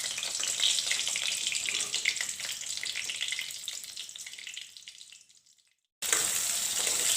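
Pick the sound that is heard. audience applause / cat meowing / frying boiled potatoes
frying boiled potatoes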